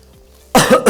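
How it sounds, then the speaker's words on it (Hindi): A man, a teacher, coughs sharply and close after a quiet pause, with a second short cough burst right after the first. "सर ने खांसा"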